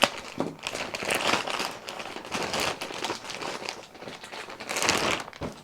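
Plastic packaging from an Amazon item crinkles and crackles continuously as it is unwrapped close by, with irregular rustling bursts throughout.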